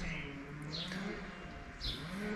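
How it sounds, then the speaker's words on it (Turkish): Birds call outdoors, with a few chirps and soft cooing notes over a low rural background hum; fairly faint and somewhat distant. "Hava çok güzel. Kuşlar ötüşüyor."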